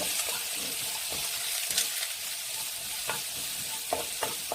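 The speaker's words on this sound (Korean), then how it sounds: "여기에다가 채 썰어준 당근을 넣어주세요. 그리고 이렇게 기름을 한 번 더 묻혀주시고" Julienned carrots stir-frying in oil in a pan with garlic and onion make a steady close sizzle, with periodic spatula scrapes and light clinks as the vegetables are tossed.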